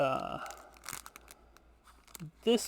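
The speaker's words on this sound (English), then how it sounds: "the laundry paper. It's supposed to be just paper that you use for soap." Thin sheets of laundry soap paper, used for hand-washing stuffed animals, are torn in a few short, crisp ripping and crinkling bursts close by, with a voice speaking briefly at the start and end.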